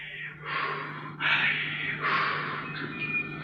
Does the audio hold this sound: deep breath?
yes